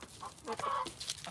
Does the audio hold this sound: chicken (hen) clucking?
yes